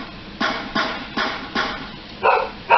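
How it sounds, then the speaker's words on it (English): Six short bursts in a steady rhythm, the last two louder and harsher, a dog barking nearby during Call of Duty: Black Ops 2 gameplay. "Sorry about my dog. She's still barking"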